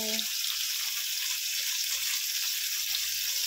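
Steady broadband hiss and crackle of tofu with eggplant and minced pork boiling in a hot pan, continuous and fairly loud, with no talking.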